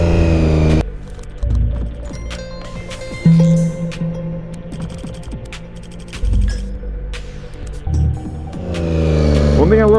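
A motorcycle fitted with an aftermarket exhaust is ridden past up close, its engine revving up in rising sweeps at the start and again near the end, with a rough, steady drone and scattered sharp pops between.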